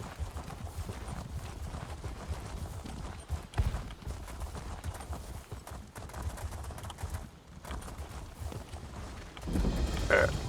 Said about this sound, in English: I guess I should ride the horse.